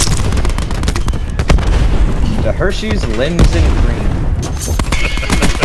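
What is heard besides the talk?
explosions and gunfire in video game Call of Duty Black Ops 4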